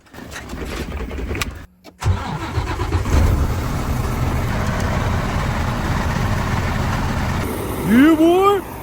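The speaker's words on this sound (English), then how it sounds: "let's get the truck started and let it warm up" A truck engine cranks and catches after a brief silent pause, then settles into a steady, loud idle to warm up, with a rising whine near the end.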